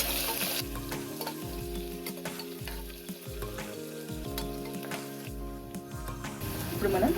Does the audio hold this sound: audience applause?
no